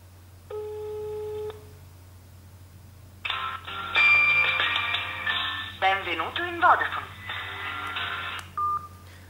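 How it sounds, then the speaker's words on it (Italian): Motorola Moto G on speakerphone plays phone call tones: a short run of steady dialing beeps, then a ringing call tone with busy, bright bursts, and a brief beep near the end, all fairly clear over low background hum. "Quindi effettuo anche una telefonata in viva voce."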